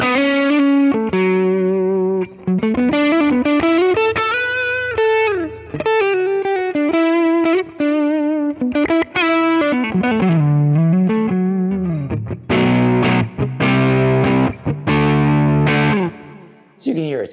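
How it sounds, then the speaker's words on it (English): PRS SE electric guitar on the neck humbucker through a low-gain amp tone, playing a fluid, melodic lead line of sustained bends and slides before shifting to chunkier chords, loud and close. "it's a low gain tone up on the neck pickup here"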